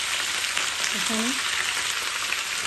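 Tomato, garlic, onion and capsicum fry in a pan with a steady, close, even sizzle that hisses on without pause, and a brief voice sounds once in the middle.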